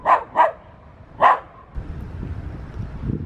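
Three sharp dog barks in quick succession ring out at moderate distance in a park along the former Berlin Wall route, followed by a low outdoor rumble of footsteps and ambient noise.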